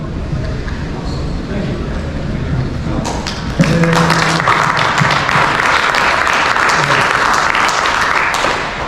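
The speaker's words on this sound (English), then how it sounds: "that was a great round of applause" An audience applauds a speaker at a technical conference presentation, with scattered claps at first swelling into sustained, loud, dense clapping that fills most of the stretch before easing slightly at the end.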